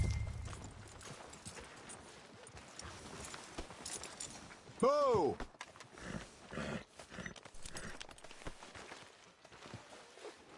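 Horse hooves clip-clop in Red Dead Redemption 2 in a steady walking rhythm, with a brief loud whinny-like burst near the middle and a voice speaking over the scene.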